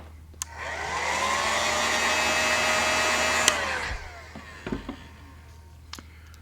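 A heat gun blows steadily for about three and a half seconds, heat-setting paint on a golden shiner fishing lure, then cuts off, leaving a low hum and a few small clicks and handling noises.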